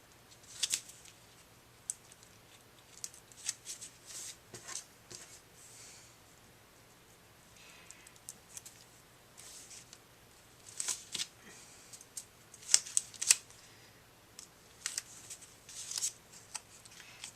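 Scissors snip through paper shapes for a handmade birthday card, giving quiet, scattered cuts and rustles on a tabletop, with brief clusters of snips between pauses.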